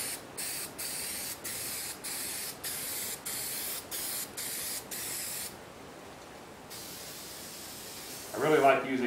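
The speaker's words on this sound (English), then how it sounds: "I'm going to fold this back and spray some spray adhesive on here and stick it down." Short bursts of 3M Super 77 spray adhesive hiss from an aerosol can in a quick repeated rhythm, then one longer spray; a brief rustle follows at the end.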